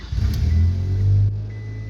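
A Ford Aspire engine with a leaking exhaust donut gasket and low back pressure starts up close by, revving briefly with a rough, throaty note before dropping to a lower running sound.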